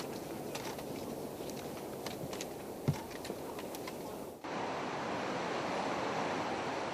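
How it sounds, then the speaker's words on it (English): Steady rushing water of a milky Himalayan river flows without pause, a broad continuous wash that grows slightly louder and fuller partway through. "The refreshing sound of water quenched our thirst."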